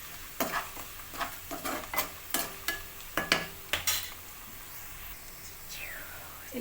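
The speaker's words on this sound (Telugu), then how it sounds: "కొంచెం బ్రౌనిష్ వచ్చేంత వరకు కూడా మనం కలుపుకుంటూనే ఉండాలి." Onions with turmeric frying in a pan for a potato-tomato curry, a soft sizzle under a steady rhythm of spatula scrapes and taps against the pan, fairly quiet and close.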